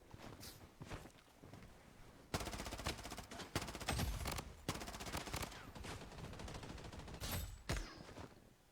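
Bursts of video game gunfire in a mobile clan shooter, sniper shots and rapid automatic fusillades that start and stop in loud clusters, with faint footsteps between them.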